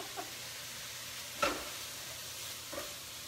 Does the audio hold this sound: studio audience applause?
no